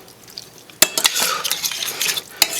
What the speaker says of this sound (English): We're going to give that a good stir and let the butter melt.